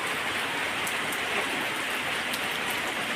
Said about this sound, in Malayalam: ഇപ്പോൾ ദാ വീണ്ടും ശക്തമായി കൊണ്ടിരിക്കുകയാണ് മഴ കണ്ടോ